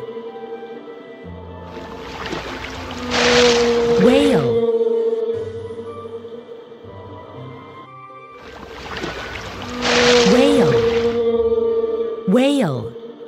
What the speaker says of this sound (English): Whale.